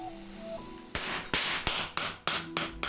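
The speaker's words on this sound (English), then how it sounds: "To make the blade, he forges a hard piece of steel over the softer base he started with." A blacksmith hammers hard steel onto a softer steel base, forge welding a Japanese blade, with six loud ringing metallic strikes in a steady rhythm after a quieter start.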